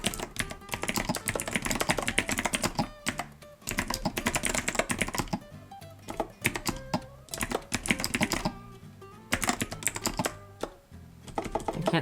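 Rapid, continuous clacky keystrokes on a keyboard bought from Amazon, close and loud, in dense runs broken by a few brief pauses.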